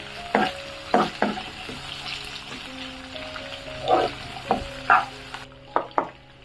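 Chopped onion sautéing in a pan for a dal palak, with a steady sizzle and intermittent scraping stirs up close.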